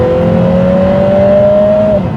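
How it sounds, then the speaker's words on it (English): Lotus Emira with a four-cylinder turbo engine and upgraded Milltek exhaust, a loud close steady engine drone holding a sustained tone for about two seconds before easing off, heard from the cabin without talk. "the rev matching sound coming from this new upgraded exhaust is also great"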